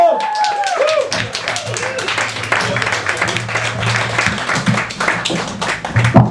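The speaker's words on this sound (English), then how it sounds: "could we get a huge Easy Paradise round of applause for Jay Agbon" Crowd at an open mic comedy night gives comedian Jay Agbon a loud, sustained round of applause and cheering as he is introduced, with voices and whoops mixed into the dense clapping.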